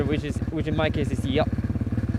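A dirt bike engine, used for bikejoring with two huskies, chugs in a steady low pulsing rhythm beneath someone talking close by.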